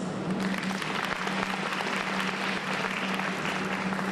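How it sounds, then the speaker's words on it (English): Audience applause for the food service staff at a faculty and staff wellness luncheon, a steady, dense round of clapping from a room full of people, sustained for several seconds without talk. "Please give a round of applause for our food service"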